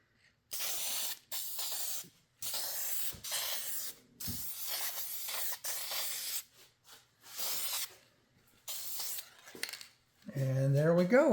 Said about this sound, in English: So now the last thing I'm going to do is just give it a quick shot of clear coat.